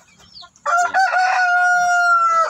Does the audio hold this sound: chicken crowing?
yes